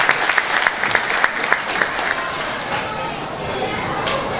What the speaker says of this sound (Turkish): Bu arada bir alkışla bizim yönetim kurulu üyelerimize gelsin.